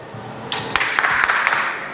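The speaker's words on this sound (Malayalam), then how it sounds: "നല്ലൊരു ക്ലാപ്പ് കൊടുക്കും." An audience claps in a short, quick burst of about five or six sharp claps, moderately close and faint against a quiet background.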